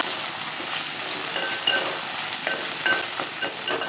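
Potato and okra (lady's finger) cooking in a pan, producing a constant close hiss and sizzle with faint crackles scattered through it, and no voices.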